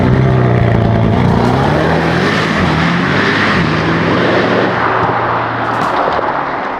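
A Lamborghini launches hard from a stop, its engine roaring loud and close with a rising then falling pitch as it pulls away, continuous for several seconds.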